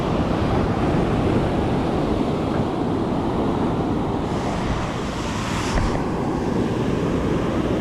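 Ocean surf rolls and crashes steadily along a New Jersey beach during surf fishing for kingfish, a loud continuous wash with wind noise buffeting the microphone and a brief surge of spray partway through.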